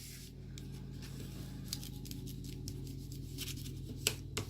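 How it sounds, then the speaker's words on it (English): A bone folder creases a folded paper card for a shadowbox tunnel card, giving close, steady scraping and rubbing strokes with a few sharper swipes near the end, with no talking. "fold it down, and give it a good crease with my bone folder"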